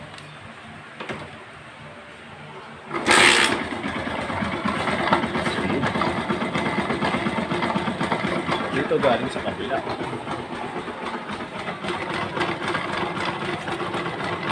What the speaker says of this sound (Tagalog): sound check natin kung anong tunog ang meron tong makina to para ma-diagnose natin